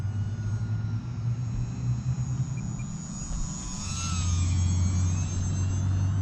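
An E-Flite UMX Cirrus SR22T micro RC airplane circles overhead, its small electric motor giving a steady, fairly loud buzzing drone that swells slightly toward the end, heard alone without talk.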